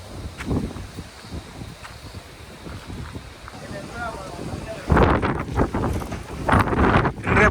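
Strong wind buffets the microphone in a steady roar beside water at Madu, Mannar, Sri Lanka, gusting harder near the end, with a voice talking over it.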